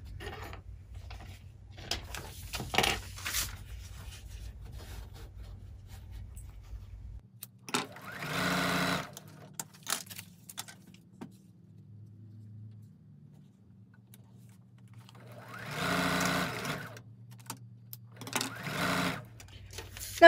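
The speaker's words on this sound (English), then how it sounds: "I'm going to go ahead and sew on these for a little bit" A sewing machine stitches fabric scraps onto strips of calculator paper, its low steady motor hum running through the first seven seconds, then fainter mechanical whirring with a few louder bursts of handling noise, no talk.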